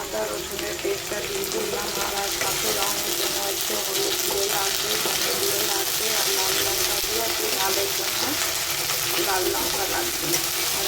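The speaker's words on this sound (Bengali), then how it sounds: "পেঁয়াজটা ভাজা ভাজা হয়ে গেলে আদা রসুনের পেস্টটা দিয়ে দেবো" Onions fry in hot oil tempered with chillies for a Hyderabadi-style egg do pyaza, giving a loud, continuous, even sizzle close at hand that lasts throughout without pauses.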